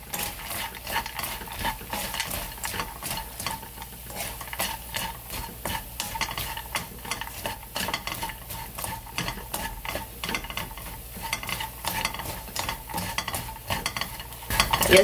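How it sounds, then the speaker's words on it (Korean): A spoon or spatula stirs oranda puffs through hot, hardening syrup in a frying pan, giving a continuous close scraping and rustling with faint sizzle and rapid repeated strokes. "한 30번만 이렇게 식혀주면서 저어주는 겁니다."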